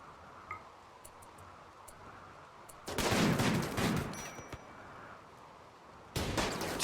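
Sniper rifles fire in a burst of sharp cracks during a RimWorld colony battle. Quiet ticking comes first, then a dense cluster of shots, and after a short pause one more volley arrives.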